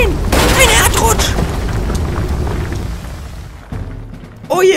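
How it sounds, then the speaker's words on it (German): A landslide rumble effect in a Playmobil fire brigade cartoon, a loud heavy crashing roar with bursts of booming debris that slowly subsides, followed by a voice speaking at the end. "Oh, oh nein! Ein Erdrutsch!"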